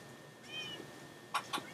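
A cat in the Minecraft video game meows faintly, with one soft drawn-out meow followed by two short, sharper mews close together near the end, with no talking over it.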